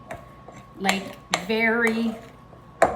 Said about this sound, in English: I'm just gonna finish it off with a spoon